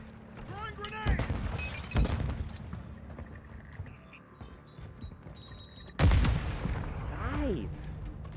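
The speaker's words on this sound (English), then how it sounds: "Throwing grenade!" Gunfire and a grenade blast in a shooter video game, with heavy booming bursts and sharp shots around the first two seconds and again near the sixth, while a player talks excitedly throughout.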